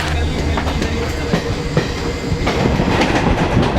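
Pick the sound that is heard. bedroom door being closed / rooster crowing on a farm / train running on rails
train running on rails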